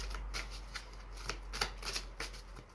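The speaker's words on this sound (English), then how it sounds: "just a couple more shuffles and then we'll be ready to go." Wisdom of the Hidden Realms oracle cards being shuffled by hand: soft, close card slides and taps in an irregular rhythm, quiet, over a faint low hum.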